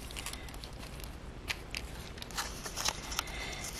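Scissors snip through music paper for a collage, with faint, close crisp cuts and small crackles over a steady low background hiss.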